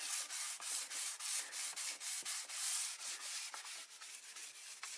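A Mustang spoiler is hand sanded with fine-grit sandpaper, making close, rhythmic scratchy strokes, roughly two or three a second, with no talking.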